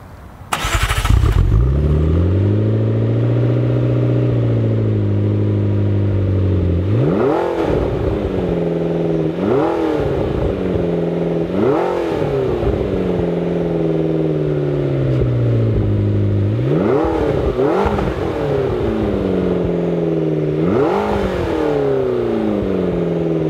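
A 2012 McLaren MP4-12C's twin-turbo 3.8-liter V8 fires up with a loud crank, settles into a steady idle, then gets blipped repeatedly, each rev rising sharply and falling back, close and alone.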